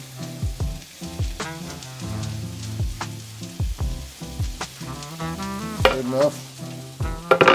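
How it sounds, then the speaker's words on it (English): Onions and garlic browning in olive oil in a pan, a steady frying sizzle under repeated stirring and scraping clatter, close and fairly loud, with background music and a brief spoken remark. "I got some olive oil because I'm watching my cholesterol. All right, here we go. Let's throw in the onions and garlic."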